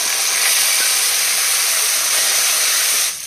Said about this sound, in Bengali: কাঁকড়াগুলো ভেজে নেব